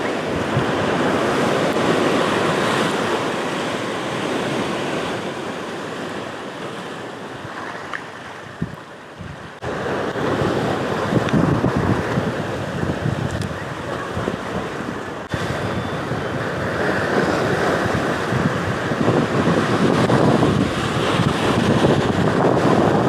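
Strong, sustained wind buffets the microphone by the sea during light-game micro-jig fishing among yachts and high-rises, roaring continuously over the wash of waves.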